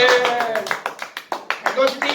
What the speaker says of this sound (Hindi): हम खुद के लिए भी तालियां बजाते